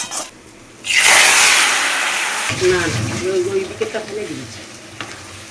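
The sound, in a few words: lote fish frying in oil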